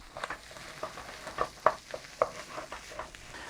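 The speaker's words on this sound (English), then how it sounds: "In there with a little bit of butter. Nice little flame on there. Just get that butter melted in there. Okay, in with our onion. A little saute on the onion." Onion sautés in melted butter in a pan over a low flame: a soft background sizzle broken by a scattering of sharp spoon-on-pan taps and scrapes as it is stirred, close and fairly quiet.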